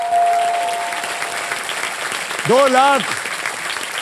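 Studio audience applauding on a Hindi game show, with a wife clapping especially loudly among them, a steady wash of claps while a host talks over it and a brief sung or exclaimed tone rises midway.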